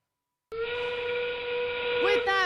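A loud, sustained steam-style whistle sounds in an arena during a FIRST robotics district match to mark the final 30 seconds, starting abruptly after silence and holding steady, with a second tone bending in near the end.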